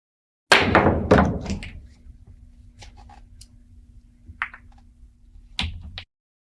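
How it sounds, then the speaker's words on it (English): Cue ball clacking into pool balls in the Virtual Pool video game on PlayStation: a couple of sharp, close collisions, a quieter stretch with faint ticks as balls roll, then another crisp clack near the end. "Hitting the 1 ball with a high right masse, having the cue ball spin around the triangle here, going down to make the 8-9 combination"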